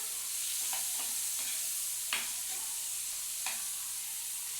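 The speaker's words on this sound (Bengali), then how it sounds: "আমি কুমড়ো টুমড়োগুলো এর মধ্যে ভেজে নিলাম" Soft sizzling in a pan with a few stirring scrapes and clinks, steady low hiss throughout, close by.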